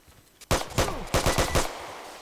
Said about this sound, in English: shoot him with the gun